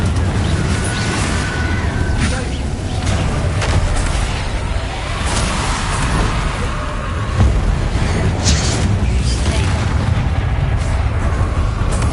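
Incendio fire spell cast in the video game Hogwarts Legacy, heard as a loud, sustained roaring blast with booming crashes layered through a dense wash of game combat noise.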